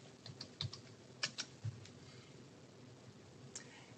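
Light, irregular tapping of a computer keyboard as a search term is typed, a quiet, close cluster of keystrokes with a short pause before a final tap.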